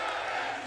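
Esports arena crowd at a Valorant match, DRX versus FunPlus Phoenix at VCT Champions Istanbul 2022, giving a short burst of massed cheering and roaring.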